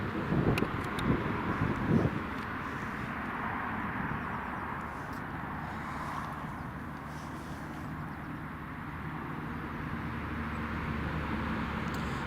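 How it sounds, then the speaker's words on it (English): ATR turboprop airliner climbing away after takeoff from Newcastle International Airport: a faint, distant, steady propeller drone blended with wind noise, with a few brief bumps at the start. "that's the ATR up and away"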